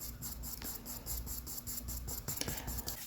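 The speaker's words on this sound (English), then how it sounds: "That's the tooth of your paper scratching against the wax on your pencil." A chocolate-colored Prismacolor wax pencil drags across toothy drawing paper, giving a steady close-up scratchy rasp with small repeated strokes and a few sharper scrapes near the end.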